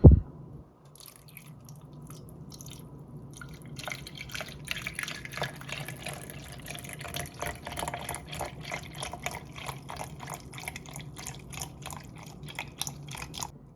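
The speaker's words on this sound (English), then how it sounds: "let's just pour it to the middle line on our cup" Homemade passion tea pours from a container into a cup, starting as a faint trickle and settling into a steady splashing stream with light drips, close and without talk.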